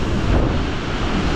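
Strong gusty wind buffeting the microphone beside a powerful waterfall in Iceland, a loud low rumbling roar of wind and rushing water filling the brief moment.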